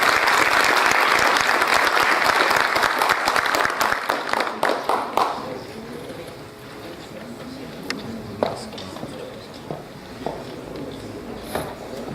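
Audience applauding an honoree at a formal Brazilian heraldry ceremony: dense, loud clapping for about five seconds, then thinning into a few scattered claps amid quieter room noise.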